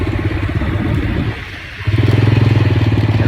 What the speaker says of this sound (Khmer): យើងជិះម៉ូតូទៅរកទិញបាយហូបតិចតាមផ្លូវ